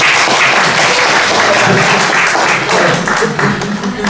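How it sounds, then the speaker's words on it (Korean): A crowd at an alumni association general meeting applauds loudly and steadily, a dense wash of many hands clapping that lasts throughout. "박수 한번 쳐주세요. 박수."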